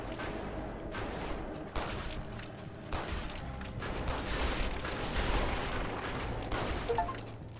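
Gunfire in the body horror video game Golden Light, repeated shots and bursts over a rumbling backdrop of booms, dense and continuous at moderate loudness, with no voices.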